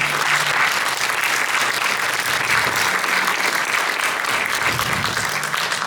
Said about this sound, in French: Je vous propose de les applaudir tous.